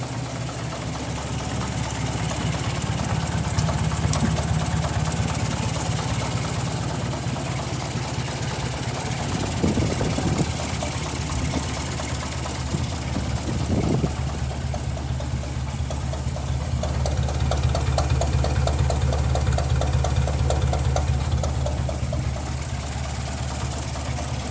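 A 1953 Ford Golden Jubilee antique tractor engine idling steadily with a low, even rumble and vibration, close and continuous, with a couple of brief mechanical knocks partway through.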